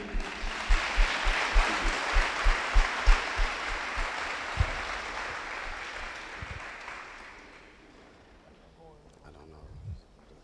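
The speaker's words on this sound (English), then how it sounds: "give a round of applause for Julia Poole" An audience at a hall of fame and state champion ceremony applauds for Julia Poole, a broad wash of clapping with rhythmic heavier claps early on, fading out over several seconds into a quiet room.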